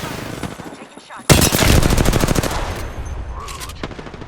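Automatic gunfire in a ranked shooter match: a sharp burst of rapid shots breaks in after a quieter moment, loud and close, followed by a fainter second burst and game sounds.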